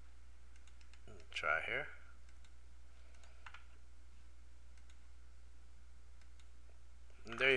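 A few sharp computer mouse clicks land quietly against a low steady hum, with a brief spoken phrase in between and another clicking burst right at the end.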